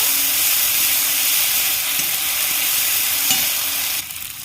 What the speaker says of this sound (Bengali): বেটে রাখা সর্ষে আর পোস্ত দিয়ে দিচ্ছি তেলের মধ্যে হালকা করে একটু কষিয়ে নেব